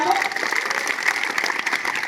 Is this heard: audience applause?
yes